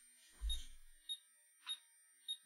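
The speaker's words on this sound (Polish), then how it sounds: "Nawet coś pika, czyli głos mamy." A Harlequin ZX Spectrum 128 clone with a test ROM gives short electronic beeps at power-on: three or four brief, evenly spaced high pips following a low thump, fairly quiet and with no voice over them.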